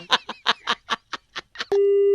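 Telephone busy tone after a call is hung up, a loud steady beep starting near the end, right after a burst of quick speech-like chatter.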